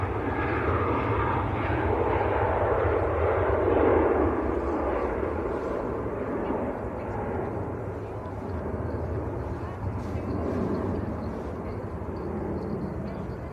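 A Ryanair airliner departs Manchester Airport for Dublin, its jet engines a steady rumbling roar that swells then gradually eases, heard at moderate distance with talk in the background.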